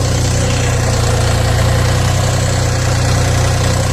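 A Dongfeng 244 DHX mini tractor engine runs steadily in low fourth gear, a loud, continuous diesel drone with a throbbing low rumble that holds an even pitch throughout.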